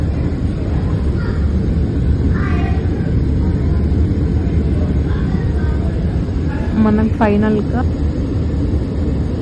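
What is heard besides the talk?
airplane cabin noise during landing, Hyderabad to Mumbai flight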